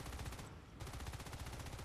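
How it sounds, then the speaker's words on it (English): Rapid automatic gunfire from a marine weapon in the sci-fi shooter Natural Selection 2, a dense stream of loud, close shots that dips briefly before resuming, with no talk over it. "Shoot the gun."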